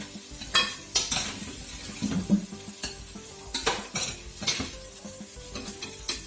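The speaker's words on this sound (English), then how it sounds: "So I'm just lightly browning these off." Meat lightly browning in a frying pan while cooking a massaman curry, with soft sizzling under intermittent clinks and scrapes of a utensil stirring against the pan, close and moderately quiet, no voices.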